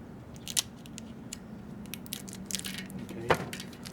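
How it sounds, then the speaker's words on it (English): Scissors snip rim tape on a 1990 Gary Fisher Advance mountain bike, a few quiet close crisp cuts and small crackles scattered over a low hum, without speech. "and then with scissors, snip that off."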